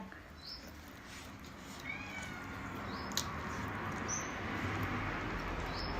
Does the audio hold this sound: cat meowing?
yes